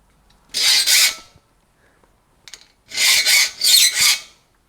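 Harsh metal rasping of a file sharpening hand saw teeth in two bursts, a short stroke then a quick series of back-and-forth strokes, close and loud, separated by near silence.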